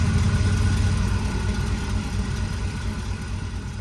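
A Mustang engine runs just above idle, a steady low rumble with broadband hum that holds constant and close, fading slightly over a few seconds with no voices.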